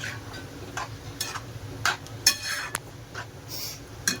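Semolina upma being stirred in a pan over a low flame, with scattered metallic spoon scrapes and taps against the pan, irregular and close, with no talk.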